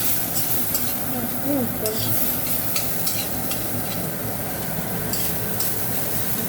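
Vegetables and ginger fry in a pan with a steady, loud sizzle and occasional stirring scrapes, while a voice murmurs faintly in the background.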